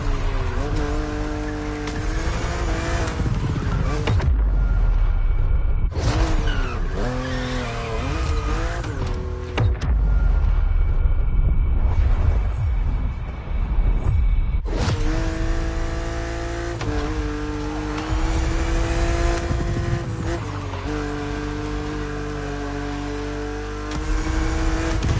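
A BMW Z two-seater roadster races against an opponent in The Crew Motorfest, its engine roaring loud and steady with rising and falling revs through gear changes and occasional tire squeal, without pause.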